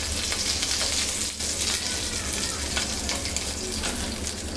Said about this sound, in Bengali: এখন কিন্তু আমি অল্প তেলে অল্প আঁচে ভেজে নিচ্ছি